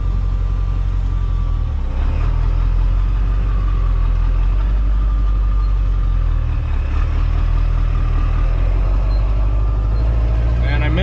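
A 7.3 Powerstroke diesel Super Duty truck on a neighborhood test drive, a loud steady diesel rumble with shifting engine tone and a couple of dips, under someone talking.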